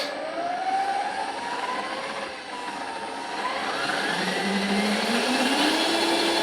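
The motor of a Ryobi 18V ONE+ hybrid drain auger runs up to speed with a loud, close whirring whine whose pitch shifts and climbs as the RPM control is adjusted, continuous throughout.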